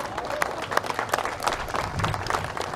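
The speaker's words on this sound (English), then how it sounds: "Applause for the Royal Canadian Air Force." Crowd applause honours the Royal Canadian Air Force at a remembrance ceremony, steady dense clapping with a few sharper hand claps standing out over a low murmur.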